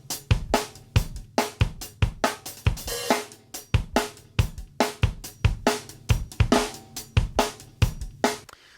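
A busy drum groove without parallel compression, punchy kick, snare and cymbal hits in a steady rhythm, fairly dry and tight, played loud and close with no voices.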